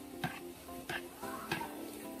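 Tapioca being stirred by hand in a pan, giving three distinct scraping strokes at a steady, even pace over a low background hum; no one speaks.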